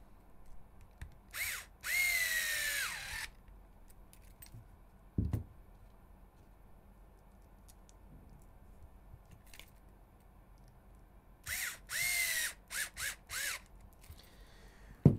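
A power tool drives 10 mm screws into the steering knuckle of an HPI Venture SBK RC car kit, short close whirring bursts with a pitch that sweeps as each screw seats, in two clusters separated by quiet handling.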